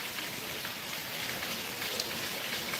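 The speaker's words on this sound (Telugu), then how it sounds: "అట్లా ఉన్నట్టుండి వర్షం పడుతుంది" Steady rain falling in Srisailam, a soft continuous hiss of drops that stays even and fairly quiet throughout, with no voices.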